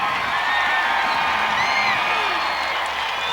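A large crowd cheers and whoops for hockey player Bates Battaglia at the 2002 Carolina Hurricanes celebration, a dense continuous roar with scattered whistles and shouts throughout.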